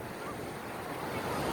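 Wind and sea waves wash continuously along a Bahamas coast before a cold front, a steady broadband roar of surf and gusts, fairly faint and unbroken, with no voices.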